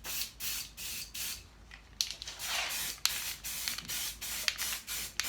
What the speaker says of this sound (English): so let's get some paint on it